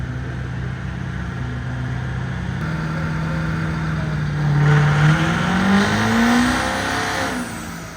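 A Harley Davidson nitrous-assisted factory race truck at a truck challenge event, its engine droning steadily and then revving up in a rising, loud sweep before easing off, with no talking.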